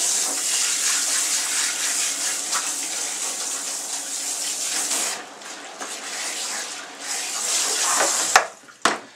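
Tap water pours steadily over a hair system being rinsed, a continuous close hiss and splash that briefly dips and gurgles before surging again, ending in a couple of sharp knocks.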